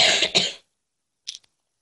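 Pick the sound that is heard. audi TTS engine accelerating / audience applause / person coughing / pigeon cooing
person coughing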